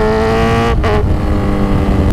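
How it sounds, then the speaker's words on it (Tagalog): A steady, loud Kawasaki Z1000R motorcycle engine hums at a constant pitch, close up, with a brief dip in tone partway through. "Maganda pa yung tunog ng motor."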